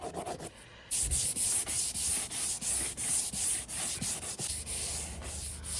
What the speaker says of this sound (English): I'm using Mercer Abranet hook and loop pads.